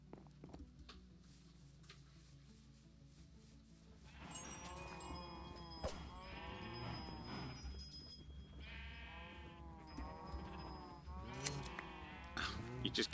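Sheep bleating in Minecraft during a UHC survival match, several repeated bleats over a steady game music or ambient bed, growing louder and busier after the first few seconds with overlapping calls.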